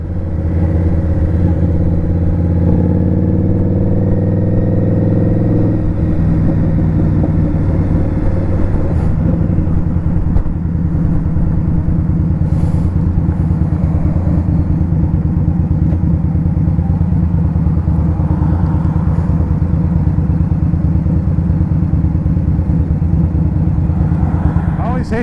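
An Indian Scout Sixty motorcycle cruising on the highway, its engine droning loud and steady with strong wind rumble throughout and a slight shift in tone early on.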